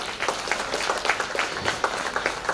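A short burst of audience applause at a felicitation during an event, moderately loud with individual claps distinct in an uneven rhythm.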